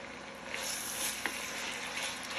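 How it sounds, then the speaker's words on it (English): Finely chopped onions sauteing in hot oil in a pan, a steady close hiss and crackle of sizzling with a faint scrape of stirring partway through. "we're gonna saute our onions"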